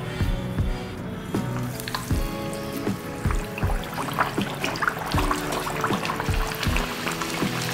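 Dhapate flatbread deep-frying in hot oil crackles and sizzles steadily, close up, with a bright bubbling hiss and recurring sharp pops.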